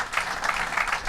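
Audience applause at a public announcement event with the governor on Long Island, a short steady burst of dense, fairly loud clapping.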